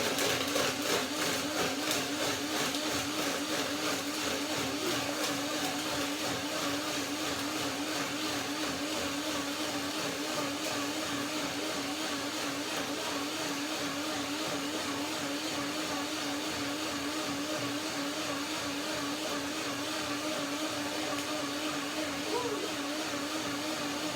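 A blender runs steadily for the full length, whirring loud and close as it purées strawberries, banana, almond cream, lemon and dates, with a constant motor drone and churning texture throughout.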